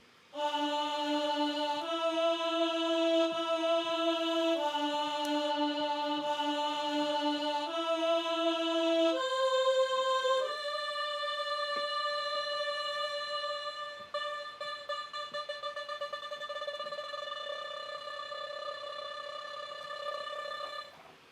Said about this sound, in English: the first one is this choir sample that sounds like this